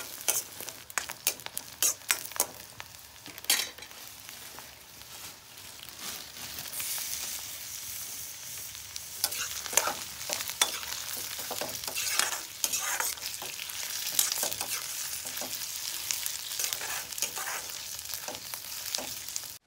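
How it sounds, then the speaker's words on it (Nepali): Chicken pieces fry and sizzle in a pan for a home-cooked meat dish, a continuous crackling hiss broken by repeated scraping stirs, close and fairly loud with no talking. "यहाँ चाहिँ चिकन मजाले फ्राई भइसकेको छ"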